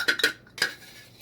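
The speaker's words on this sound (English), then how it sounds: "we're going to put it in our little celery seasoning jar. We want to make sure we get every bit of this seasoning mix." Seasoning mix being spooned into a small jar: three quick bright clinks of a metal spoon against glass, close and clear, followed by quiet.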